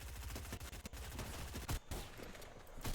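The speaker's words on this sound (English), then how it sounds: "I just have to shoot." Rapid bursts of gunfire in Fortnite, dense overlapping shots with a brief break partway through, heard close and loud without any talking.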